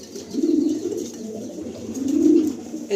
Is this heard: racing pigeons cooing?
yes